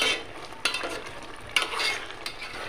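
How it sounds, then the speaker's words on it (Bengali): A spoon stirs chopped taro leaves together with a fish head in a frying pan, scraping in a few distinct strokes over a soft, steady sizzle of close, quiet cooking. "কচুগুলো মাছের মাথাটার সাথে মিক্স করে নিচ্ছি নেড়ে চেড়ে"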